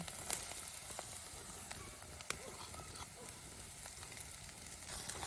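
Two medium onions with green chillies frying in a pan for a fish palya, a faint, even sizzle with scattered small clicks and pops, heard alone without speech.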